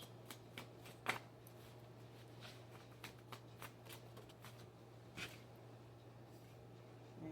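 Tarot cards being shuffled by hand, a soft run of riffling and flicking with a few sharper snaps, close and quiet over a steady low electrical hum.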